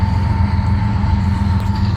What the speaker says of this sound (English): Oh boy, it's a big train. It's gonna be a long train.